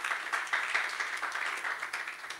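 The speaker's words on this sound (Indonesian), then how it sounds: "tepuk tangan untuk Tuhan" A church congregation claps together during a worship service, producing a soft, steady wash of applause with a fairly even rhythm and no other sounds standing out.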